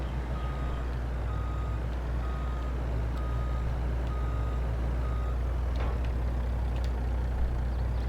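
A truck reverses in Farming Simulator 22, its steady backup alarm beeping at an even pace over a loud, constant diesel engine drone, with a brief air-brake hiss partway through.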